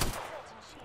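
Gunfire in the video game Apex Legends, a loud burst at the very start that quickly fades into a noisy decaying tail.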